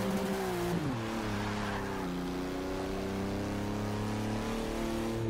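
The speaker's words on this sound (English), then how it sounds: "You can hear that engine, man" A lowered VW van's engine in Forza Motorsport 6 drones loud and steady, with a sustained revving tone that shifts pitch early, then holds a constant high-rpm whine throughout.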